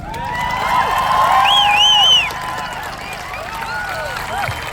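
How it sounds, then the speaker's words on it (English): A crowd at a climate strike rally in Brighton cheers and whoops loudly, with shouting voices rising over a steady wash of clapping that carries on after the peak. "another big round of applause for our two speakers."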